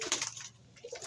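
A fancier's pigeon coos in a short low throaty burst, close and fairly quiet, with faint bird chatter around it.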